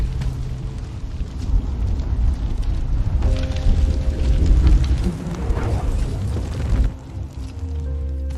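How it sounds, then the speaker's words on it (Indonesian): A deep, rumbling explosion of a car in a film roars with low booming and crackling debris, swelling in the middle before fading into a lower rumble. "mobil itu seketika meledak"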